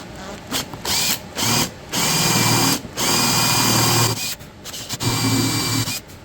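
A power drill boring a dowel hole into a damaged dining room chair for repair, whining in several short bursts of varying length separated by pauses, loud and close, with no talking.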